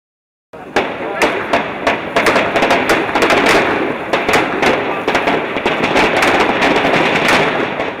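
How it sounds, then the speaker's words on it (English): Rapid, loud gunfire cracks in dense, overlapping bursts that continue without pause during the Westgate Mall siege in Kenya, echoing against a constant rumble of background noise. "Gunfire,"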